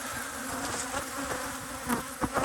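Honey bees buzzing around apiary beehives, a dense steady hum of many insects close by with individual bees droning past, fairly faint overall.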